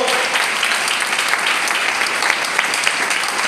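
A church congregation claps for the Lord during a sermon, thick, continuous applause filling the room at a steady, fairly loud level with a few sharper individual claps standing out.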